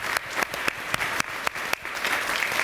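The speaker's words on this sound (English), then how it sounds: "So let's give a big round of applause to our panelists." Audience members at a smart city panel discussion applaud the panelists, with a short burst of brisk, fairly close clapping and distinct individual claps standing out.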